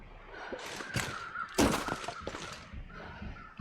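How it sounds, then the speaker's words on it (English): Crows cawing in The Long Dark video game, several harsh calls scattered through the scene, with a sharp loud burst in the middle over a steady wind-like background. "I hear crows up here. There's crows right there."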